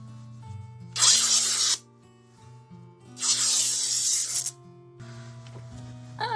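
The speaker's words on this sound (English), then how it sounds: "So now I'm going to tear some fabric into thin strips." Fabric torn into thin strips by hand for a shabby chic French-style craft, two long loud ripping bursts a couple of seconds apart, close up, with quiet gaps between and no talk.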